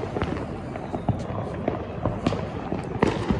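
Diwali firecrackers set off by neighbours crackle and pop in a scattered series of sharp bangs, some near and some farther off, over constant outdoor background noise.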